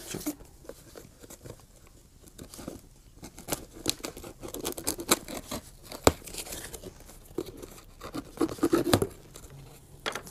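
A parcel of fishing gear being cut and torn open, with close, continuous crinkling, scratching and ripping of packaging in irregular bursts, louder tearing toward the end, and no talking.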